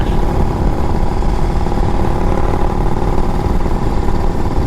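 A custom Strokers-built motorcycle engine runs loud and steady with a dense, continuous low rumble at constant pitch, heard up close with no talk.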